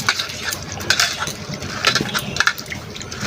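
Red lentils being rinsed by hand in water in a bowl, a continuous wet swishing and sloshing with soft grainy rattles and irregular splashy bursts, close and fairly loud, with no talk.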